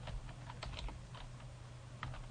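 Soft computer keyboard typing, close and quiet, with a few quick clusters of key clicks and short gaps, alone over a low hum.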